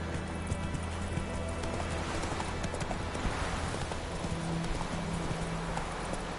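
Roach, the horse in The Witcher 3: Wild Hunt, gallops with a steady rhythmic clip-clop of hooves, quiet and continuous throughout, with low background ambience and no talk.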